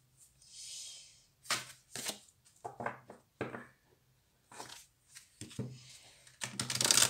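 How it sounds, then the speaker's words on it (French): Oracle cards shuffled by hand, intermittent soft papery swishes and slides in short separate bursts with quiet gaps, close and fairly faint. "Je mélange bien mes cartes."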